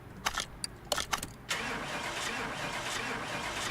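A car engine in Car Mechanic Simulator 2018 cranks with a few sharp, stuttering bursts, then catches and settles into a steady, even idle.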